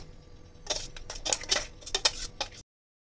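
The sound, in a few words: pouring pulsed dried copra coconut from a mixer jar onto a plate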